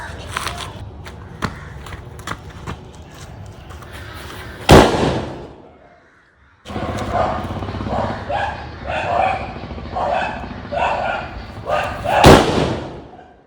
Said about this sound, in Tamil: படக்கெல்லாம் பார்த்தீங்கன்னா தரமாக வெடிச்சு முடிச்சாச்சு